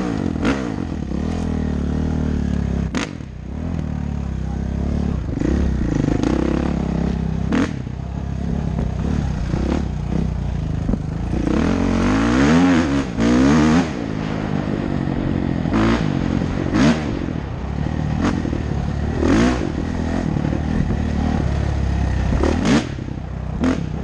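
A 450 dirt bike engine idles and revs on its first day back out, loud and close, with repeated sharp throttle blips and clattering, scraping noise throughout.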